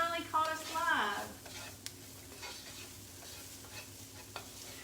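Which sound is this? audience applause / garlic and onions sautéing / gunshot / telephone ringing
garlic and onions sautéing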